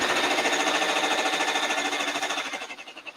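An embroidery machine stitches an embossed design onto a teddy bear sweatshirt, giving a loud, steady rapid mechanical chatter of the needle that slows into separate thumps near the end, with no talking.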